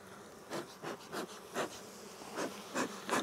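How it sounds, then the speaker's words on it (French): A dense, steady buzzing of many honeybees at a hive in French Polynesia fills the scene, with louder swells as individual insects pass close, no voices present. "on en fume pour calmer les abeilles"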